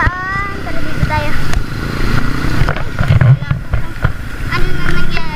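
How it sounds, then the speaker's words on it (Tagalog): Motorcycles ride past on a rainy road, engine drone rising and falling near the listener with crackling passes, while people talk over the traffic. "Ayan na mga motor na dumadaan."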